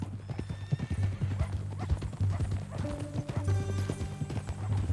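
Horse hooves clip-clop at a walking pace in Red Dead Redemption 2, with close, crisp, rhythmic hoof strikes, a brief whinny and soft tack sounds, and faint talk underneath.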